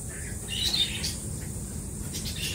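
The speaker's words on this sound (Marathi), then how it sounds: "सुंदरसे असे छोटे छोटे पक्षी या ठिकाणी आहेत" Small birds chirp and squawk in short scattered calls inside netted aviary cages at Karnala bird sanctuary, heard over a steady low outdoor hum with no talking.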